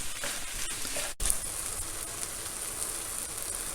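Tomatoes and courgettes sizzling in a pan, a soft continuous crackle like light rain, steady and fairly quiet, with a brief break partway through.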